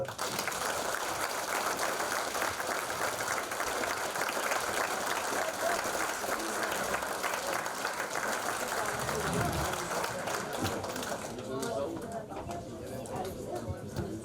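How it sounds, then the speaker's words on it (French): Sustained applause from an audience at a minor hockey gala, a dense, steady clatter of many hands clapping that keeps going for about eleven seconds before thinning out, with a voice beginning to speak near the end. "Une grosse main d'applaudissements."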